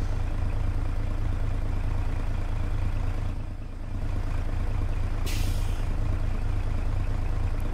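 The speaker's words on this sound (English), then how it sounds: "That's just the normal engine sound," A Dodge Bighorn CNT950 logging truck engine in American Truck Simulator idles with a deep, steady rumble, a brief dip in the middle and a short hiss of released air partway through.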